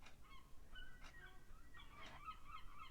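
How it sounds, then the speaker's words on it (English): Gulls calling outdoors, a few short, nasal honking cries scattered over a few seconds, faint and distant over a quiet background. "And of course the seagulls are having a party."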